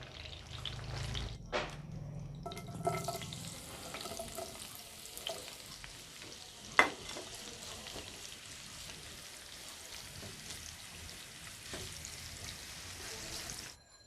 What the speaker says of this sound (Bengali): একই তেলে পেঁয়াজ কুচি দিয়ে বেরেস্তা করে নেব